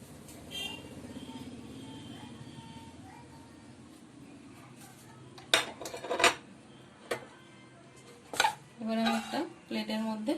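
Semolina rasgulla mixture poured from a hot pan onto a plate, with a low steady background hum giving way to a few sharp metallic clinks and scrapes of pan against plate near the end.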